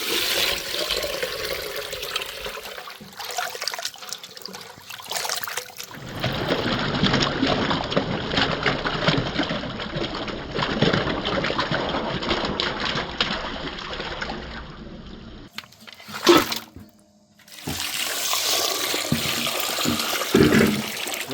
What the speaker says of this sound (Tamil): இரண்டாவது முறை நல்லா தண்ணி ஊற்றி தண்ணி ஊற்றி நல்லா பிசைஞ்சு கலக்கிக்கிறோண்ணா